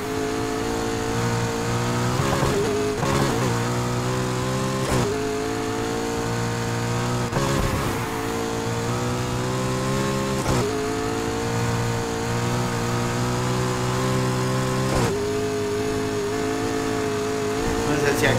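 A McLaren engine revs steadily in the racing game Need for Speed Heat, a loud sustained growl with periodic gear-shift breaks over about eighteen seconds, mixed with game sounds.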